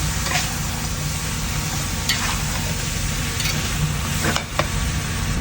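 Pork ribs being stirred in a cooking pot, a steady simmering and sizzling bed with a few scraping stirs of the spoon against the pot, close and continuous.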